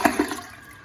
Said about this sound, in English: Oh, that time it flushed.